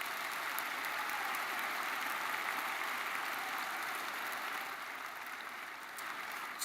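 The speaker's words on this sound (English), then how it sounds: "Give everyone a round of applause, would you please?" Applause at a university commencement ceremony, a distant, hissing wash of clapping from a large crowd that fades slightly partway through, heard faintly and without speech.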